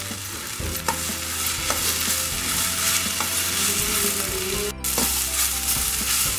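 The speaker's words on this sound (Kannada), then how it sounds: "ನೋಡಿ ಇದು ಚೆನ್ನಾಗಿ ಫ್ರೈ ಆಗಿದೆ." Cinnamon, cloves, cumin, pepper and poppy seeds fry in a pan with a loud, close, continuous sizzle. A few sharp scrapes and taps of stirring sound over it, with no voices.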